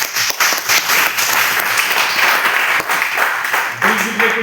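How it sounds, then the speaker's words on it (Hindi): An audience at a career-guidance induction programme claps loudly and densely for several seconds, with a few distinct claps standing out near the microphone and a voice briefly rising over the end. "ताली बजाइए खुद के लिए।"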